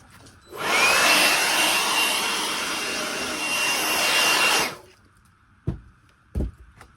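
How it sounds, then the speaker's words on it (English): A power sander with fresh sandpaper whines loudly and steadily on oak for about four seconds, then cuts off, followed by two dull knocks in the quiet. "we're about to be doing some major sanding"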